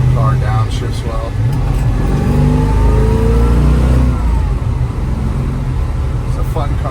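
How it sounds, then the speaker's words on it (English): A restored 1967 Chevrolet Nova downshifting, its engine revving up and settling through the gear change, heard from inside the cabin as someone talks over it. "Car downshifts well."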